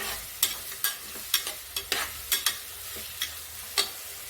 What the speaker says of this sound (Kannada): ಪೊಟಾಟೊ, ಬೀನ್ಸು, ಗಜ್ಜರಿ, ಈರುಳ್ಳಿ, ಟೊಮೆಟೊ ಎಲ್ಲವನ್ನು ಹಾಕ್ಕೊಂಡು ಈ ಥರ ಫ್ರೈ ನೋಡ್ತಾ ಇದ್ದೀನಿ ನಾನು.